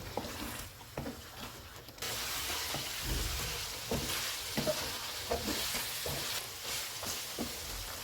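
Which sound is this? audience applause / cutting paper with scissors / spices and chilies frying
spices and chilies frying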